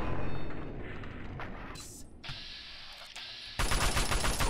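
Gunfire rattles in Fallout 3 as an enemy is shot repeatedly. Dense, loud bursts of shots run across the whole stretch, with a heavier burst near the end.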